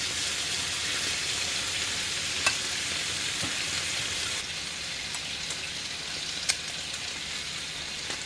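Pork barbecue sizzling steadily on a grill while being basted with sauce, a constant close hiss and crackle with a few sharp pops, slightly quieter in the second half.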